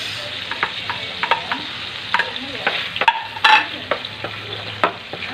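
Garlic, onion and tomato sizzle steadily in a hot pan, a bright frying hiss broken by frequent scrapes and taps of a stirring utensil, close and clear with no talk.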